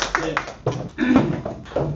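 Audience at a Korean school parents' gathering applauding: a few separate bursts of hand clapping, close and moderately loud, with pauses between them.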